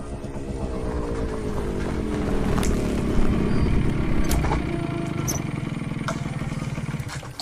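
A motorcycle approaching at night, its engine droning and rising steadily as it draws near, loud and close, with sharp clicks and knocks over the running engine and no talking.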